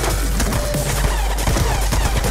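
Gunfire in the Black Ops 2 campaign on Wii U: a loud, dense, continuous barrage of rapid shots and impacts filling the whole moment with no pause, without talk.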